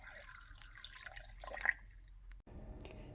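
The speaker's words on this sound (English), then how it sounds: "I'm just adding enough water just to cover the vegetables" Water poured into a soup pot over chopped garden vegetables to cover them, a soft, steady splashing and trickling that is close but quiet and heard alone.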